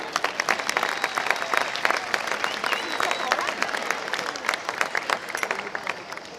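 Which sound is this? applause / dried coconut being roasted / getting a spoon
applause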